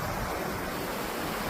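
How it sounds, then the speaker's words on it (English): Waterfalls at Falls Park in Sioux Falls, South Dakota give a steady, dense roar of rushing water that holds even and unbroken throughout, with no voices over it. "The major falls are right down there, but it's a park of waterfalls, essentially."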